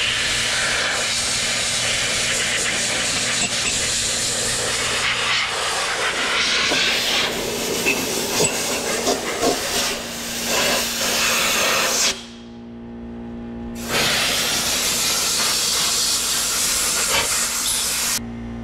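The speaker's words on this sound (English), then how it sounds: "we have blown it out completely, or to the best of our ability" Compressed air blasts loudly and steadily through a degreased engine block, a harsh continuous hiss that cuts out briefly and then resumes at full force, with no talking.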